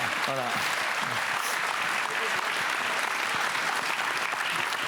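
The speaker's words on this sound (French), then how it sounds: "On peut l'applaudir d'ailleurs" An audience claps steadily through an Auxerre ceremony for Olympic New Year wishes, a dense, even applause with a brief voice heard at the start.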